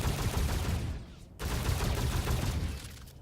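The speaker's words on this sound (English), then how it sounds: "when we pull the right trigger, it's going to rapid fire both triggers" Akimbo weapons in a video game fire rapidly from both guns at once, a dense rattling burst of gunfire that cuts out briefly and then resumes just as loud.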